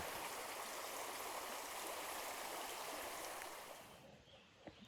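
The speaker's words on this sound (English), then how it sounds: "just arrived at Lick Creek crossing. Ford the river, no problem." Lick Creek flows at a shallow river crossing, a steady broadband rush of moving water that fades toward the end, leaving faint splashes.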